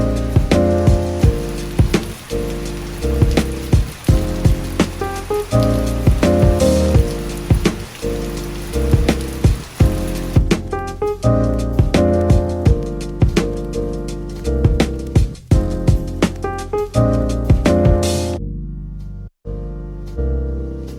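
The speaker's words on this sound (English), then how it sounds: "It has been relentlessly raining pretty much all week." Rain falls steadily all week, pattering continuously on a surface with scattered sharper drips, fairly loud and unbroken across the whole stretch, with no one talking.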